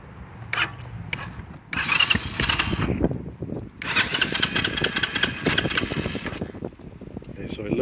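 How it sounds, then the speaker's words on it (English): A 2022 X-Pro Titan DLX 250cc motorcycle with a newly installed Nibbi carburetor cranks and fires up, its engine then running loud and close with revving surges, while a person talks over it. "So we're gonna start it again to see where we're at."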